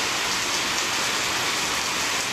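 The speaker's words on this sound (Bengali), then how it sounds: "পুরো ঝমঝমিয়ে বৃষ্টি হচ্ছে।" Heavy monsoon rain in Agartala, Tripura pours down in a dense, steady, unbroken hiss, loud and close, with no talking.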